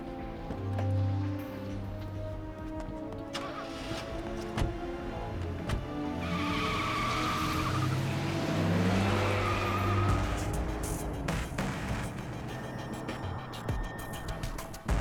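A car accelerates hard and speeds away, engine rising into a roar with tire squeal in the middle, then receding, set against a tense film soundtrack.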